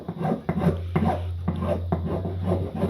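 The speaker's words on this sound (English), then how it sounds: "With a round file, half round file." Half round file rasping across the edge of a wooden knife strop handle, in steady strokes about every half second, close and fairly loud with a low hum underneath.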